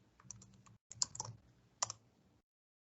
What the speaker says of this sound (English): So that we type the new password.